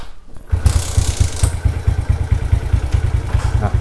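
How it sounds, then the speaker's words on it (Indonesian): A Suzuki Smash Shogun 125 motorcycle engine fires up after a brief crank and settles into a steady, close, rhythmic idle with a loud low putter throughout. "nyalakan mesin, dan pastikan tidak ada rembesan"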